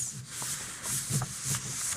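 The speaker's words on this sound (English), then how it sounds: "the trick is just to take your piece of scrap paper and fold it over, and then I'm going to rub on it" Fingers rubbing over folded scrap paper pressed onto a hardwood-look image transfer, a soft close back-and-forth rustle in repeated strokes.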